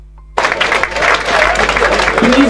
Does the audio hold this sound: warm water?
no